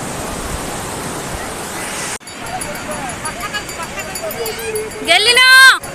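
Sea surf on the beach at Puri rushes as a steady broadband wash, loud and close, with a sharp cut partway through, then continuing under faint voices and a brief rising tone near the end.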